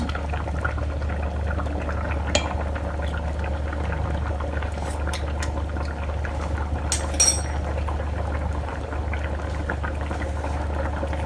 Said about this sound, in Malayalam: തേങ്ങാപ്പാൽ ചേർത്ത് നന്നായിട്ടൊന്ന് തിളപ്പിച്ചെടുക്കാം.